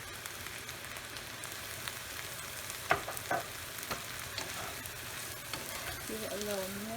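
Ampalaya (bitter melon) and shrimp sizzle in a pan with fish sauce, a steady broadband fry with a couple of brief clanks of stirring near the middle and faint background noise.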